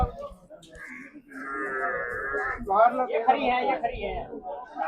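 A buffalo at an Indian dairy farm lets out a drawn-out, low moo, near and fairly loud, over steady talk from several people nearby.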